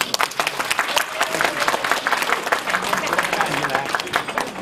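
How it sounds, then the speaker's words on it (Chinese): Applause breaks out for the president of an Australian association of former Chinese sent-down youth at its 15th anniversary celebration, dense steady clapping from a crowd filling the room throughout. "我们给许兆辉唱会会长给点掌声"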